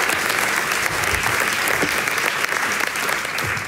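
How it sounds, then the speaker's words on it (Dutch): Warm audience applause welcomes guests being invited to a table, a continuous dense clapping from a gathered crowd lasting the whole stretch. "Geef ze een hartelijk applaus."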